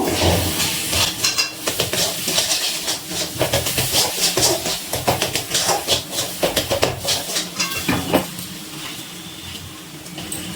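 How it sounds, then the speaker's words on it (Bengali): Ghee-roasted semolina is stirred in a hot pan for taler dudhpuli pitha, giving rhythmic scraping strokes over a continuous hiss, close and steady for the whole stretch. "অল্প অল্প করে দেবো আর নাড়াচাড়া করবো"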